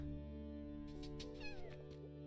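A cat in the video game Cozy Grove gives a couple of soft, rising meows over steady background game music, faint and close.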